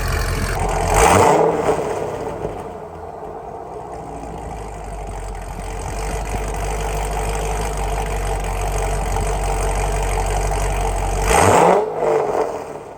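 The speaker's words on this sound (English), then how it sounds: "Let this thing warm up a bit and give you guys a couple revs." A C6 Corvette engine with newly installed Speed Engineering headers idles, then revs sharply twice, once near the start and again near the end, each rise swelling loudly before settling back.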